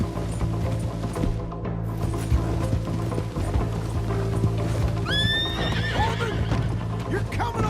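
In the Red Dead Redemption 2 video game a horse gives a loud rising whinny, heard over clip-clopping hooves, clanking gear and background game sounds near the end of the clip.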